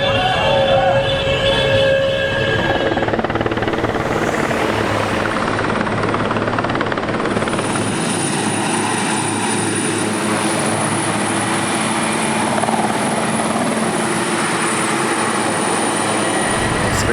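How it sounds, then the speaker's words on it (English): Military helicopters arriving with a convoy in Beirut, a loud continuous rotor thrum and engine roar that dominates throughout, with shifting whine as the aircraft pass overhead. "Just saw a huge military convoy with helicopters coming in"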